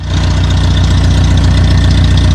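An International TD-9 diesel bulldozer engine, started on gasoline with the choke on, idles loudly and close up in a steady, even chugging rhythm with a faint knocking pulse, with no talk over it.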